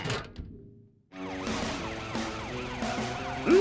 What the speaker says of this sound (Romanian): mașina de poliție